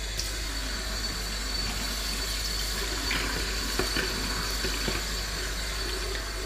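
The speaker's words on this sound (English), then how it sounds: "I'm going to give these all a good rinse out in the sink" Tap water runs steadily into a kitchen sink while damsons are rinsed, a continuous splashing hiss with faint knocks of fruit and handling, close by.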